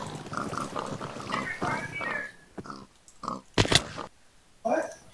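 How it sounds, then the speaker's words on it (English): Pigs oinking and grunting in Minecraft Skyblock on a crowded pig farm, several short snorts scattered across the clip, fairly close, mixed with game sounds and a player talking. "look at these pigs!"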